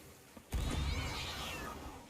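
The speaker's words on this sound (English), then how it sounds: "The cat was always funny to hear as well" A cat meows in the pirate video game Sea of Thieves, one drawn-out, wavering meow that starts suddenly and runs loud and close for about a second and a half, with no talking over it.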